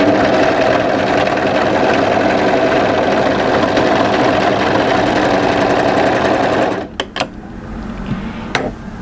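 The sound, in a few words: sewing machine stitching a draped dress seam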